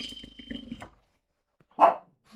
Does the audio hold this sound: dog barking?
yes